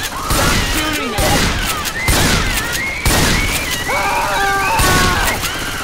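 Heavy gunfire in the video game Left 4 Dead 2, a loud continuous barrage of shots and booms with a voice shouting over it and other game sounds mixed in.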